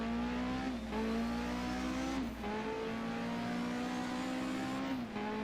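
A 1978 DRM race car at the Mainz-Finthen airfield circuit revs near 8,000 rpm, its engine note climbing steadily and dropping sharply at three gear shifts, loud and close without talk.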